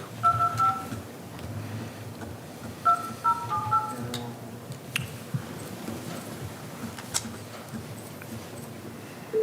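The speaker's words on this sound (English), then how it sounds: "The next item has someone calling in, so I'll dial them real quick." Telephone keypad tones dial a caller into a city commission public meeting, a series of short beeping tones in quick bursts over room hum, followed by faint clicks, with no talking.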